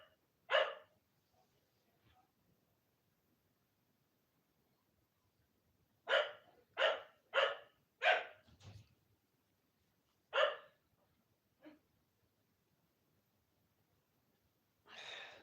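A pet dog barks indoors during a live football watchalong stream: about eight sharp, close barks, one single, then a quick run of five, with two more spaced out and a last one near the end, and no talk between them.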